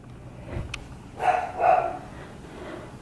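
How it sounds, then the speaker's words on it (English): A few pet dogs bark indoors in a home, two or three short, muffled barks from a distance in an otherwise quiet room. "My doggies are barking."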